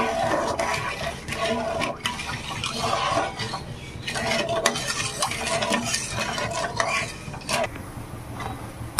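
Sugar syrup with cardamom pods and cloves boiling in a pan on the stove, a steady bubbling simmer with scraping and stirring clinks at intervals.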